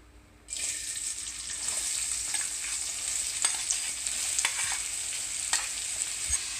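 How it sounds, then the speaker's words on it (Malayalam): Chopped onions hit hot coconut oil in a pan for Kerala chicken biryani, bursting into a loud, steady sizzle after a brief quiet moment, with scattered crackles and stirring scrapes close up. "നമുക്ക് അരിഞ്ഞു വെച്ചിരിക്കുന്ന സവാള ഇതിലിട്ട് വഴറ്റിയെടുക്കാം"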